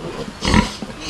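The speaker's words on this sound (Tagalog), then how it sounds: "12 po yung ating mga biik." Piglets on a Filipino backyard farm where a sow has just farrowed give a short, loud burst of squealing and grunting at close range, with fainter snuffling before and after.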